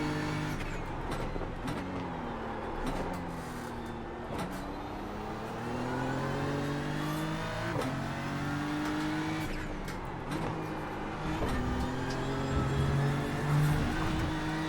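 A GT3 race car in iRacing at Brands Hatch roars loud and steady, the engine note climbing and dropping through gear changes as it bounces off the RPM limiter, with brief tire squeal.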